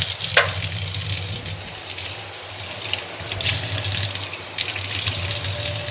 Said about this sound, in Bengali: এই দেখো এবার এটাকে ভালো করে আমি জল দিয়ে পরিষ্কার করে তোমাদেরকে দেখাচ্ছি